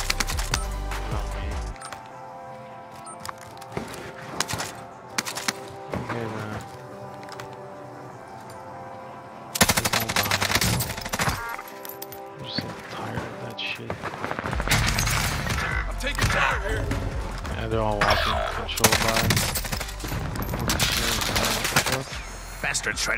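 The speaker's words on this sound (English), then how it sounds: "Bastard trying to shoot me." Gunfire erupts in a Warzone match on Rebirth Island, a sustained mix of rapid shots and bursts with keyboard and mouse clicks, loud and dense, under game music and effects.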